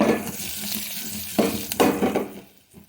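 Freshly pounded pepper spice powder stirred in a pan on low heat, a soft sizzle with a few scraping strokes of a spoon that fade out toward the end, no talking.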